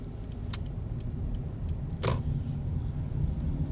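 A car drives through the small streets of Stonington Borough, Connecticut, in early spring, its steady low engine and road rumble running throughout with faint creaks and a brief louder swish midway.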